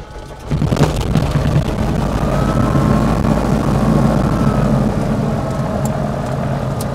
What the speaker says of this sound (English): as soon as the engine fires, we'll push the mixture forward to keep her going